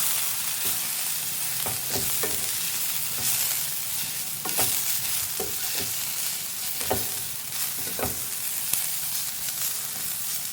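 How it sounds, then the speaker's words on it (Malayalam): Squid roast masala sizzles steadily in a frying pan while a spoon stirs it, scraping sharply against the metal at irregular intervals, close and with no talk. "എന്നിട്ട് ഇതെല്ലാം കൂടി നന്നായിട്ടൊന്ന് ഇളക്കി യോജിപ്പിച്ച് മിക്സ് ചെയ്തെടുക്കണം"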